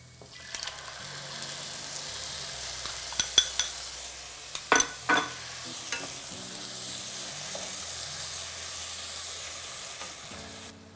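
Tomato paste being stirred into ground beef for spaghetti bolognese, with a steady sizzle from the pan and a few sharp spoon scrapes and knocks against it, close and without speech.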